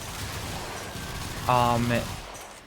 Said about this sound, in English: It's crazy how fast these regulators shoot.